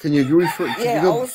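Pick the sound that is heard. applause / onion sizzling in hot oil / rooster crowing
rooster crowing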